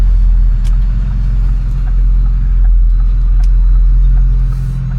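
A Ford 6.4 Powerstroke diesel truck engine with a VGT turbo idles with a deep, steady rumble and low knocking throb, close and loud, with faint clicks over it.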